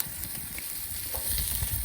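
Potatoes and vegetables frying in olive oil in a covered pan over a fire, giving a soft, steady sizzle with faint crackles, fairly quiet.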